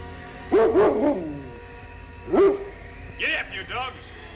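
Sled dogs bark in short bursts, a cluster of yapping barks followed by a single bark and a few higher yips, fairly close, with a voice shouting commands nearby.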